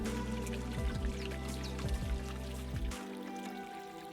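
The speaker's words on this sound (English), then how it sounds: "So there's water flowing through this right now, and I think that this is part of their irrigation system" Water flows through an Inca irrigation canal at Machu Picchu, Peru, a steady close trickle and pour with a low rumble that drops away near the end.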